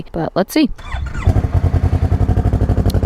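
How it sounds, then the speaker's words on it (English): A Yamaha R3 motorcycle fitted with an M4 slip-on exhaust cranks and fires up after a few spoken words, settling into a loud, close, rapid idle pulse. "test number 1 is turning on the bike and seeing how the audio is when I turn it on"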